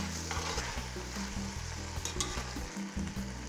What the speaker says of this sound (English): Let me just give them a stir.